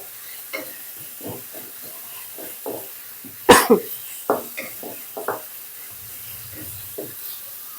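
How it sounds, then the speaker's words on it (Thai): Chilli paste stir-fried in a pan for a Thai spicy fish ball and long bean curry, with scattered scraping and clattering strokes and a short loud burst of sizzle and spatter midway, then faint sizzling near the end. "ผัดพริกให้หอมเลยค่ะ"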